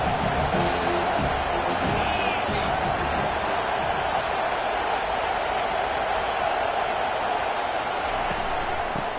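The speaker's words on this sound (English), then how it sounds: "Listen to the crowd energy here in the early going." Stadium crowd at a football game in the early going, a steady, loud roar of cheering that fills the whole stretch, with a commentator talking over it.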